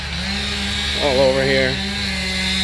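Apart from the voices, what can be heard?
chainsaw cutting an oak tree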